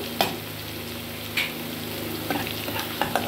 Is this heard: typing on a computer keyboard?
no